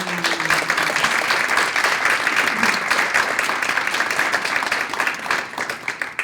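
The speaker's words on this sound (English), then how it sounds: "Please join me in giving them all a warm applause." Audience at a business women's luncheon applauds steadily, a dense wash of clapping hands from a room of guests that holds level throughout with a faint voice early on.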